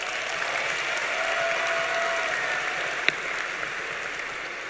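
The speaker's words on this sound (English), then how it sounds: "So let's give ourselves a round of applause." A graduating high school class and crowd applaud together, a broad sustained clapping that holds steady throughout with one sharp louder clap standing out.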